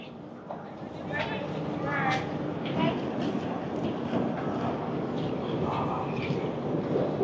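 Hirakhand Express pulling out of Damanjodi station, heard from inside the train as a steady broadband rumble of wheels and carriage with faint squeals, continuous and close throughout with people talking over it.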